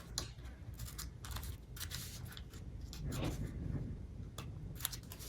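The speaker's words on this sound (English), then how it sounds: "They're doing their best to cut on the line, and watch how your adult uses the scissors." Scissors cutting paper shapes for a craft, a run of close snips and slicing crunches over a steady low hum, irregular in spacing as the paper is turned.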